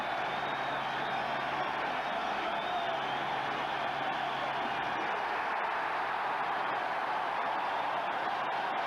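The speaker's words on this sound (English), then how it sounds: "Crowd roaring now for the strikeout." Baseball stadium crowd roaring after a strikeout, a steady broad wash of cheering and scattered whoops held at an even level throughout, distant and dense with no clear single voices.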